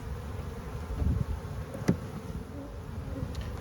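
Honey bees hum steadily around an open hive, a close, soft, continuous buzz with one brief sharper sound partway through, and no voices.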